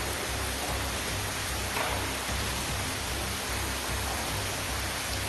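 Heavy monsoon rain pours down in the Konkan region, a dense, steady hiss of falling water with a constant low rumble beneath, uniform and unbroken.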